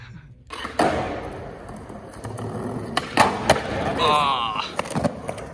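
Skateboard wheels rumble and clatter across a hard floor inside an abandoned mall, with sharp clacks and scrapes scattered throughout and a voice talking briefly in the middle.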